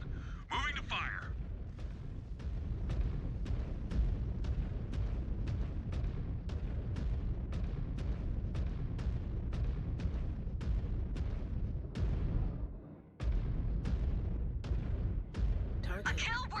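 Mech weapons in the MechWarrior 5 video game fire in a steady, rapid train of loud booming shots, about two per second, with a brief pause near the end and a faint radio-style voice beneath.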